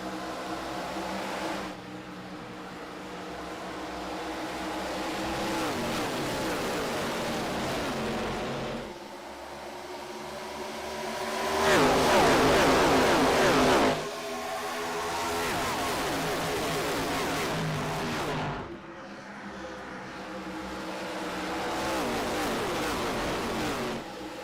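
Race cars in an eSports racing game at Homestead Miami Speedway, engines droning and revving in long continuous waves, swelling louder as the pack passes and easing off between surges.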